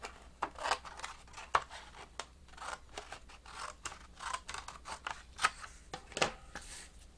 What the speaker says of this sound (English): So I'm going to take my scissors and I'm just going to cut this piece right off.